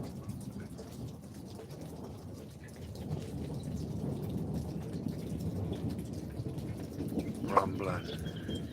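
Rain falls steadily through a lightning storm while low thunder rumbles continuously underneath, swelling slightly midway, with a brief sharper crack near the end.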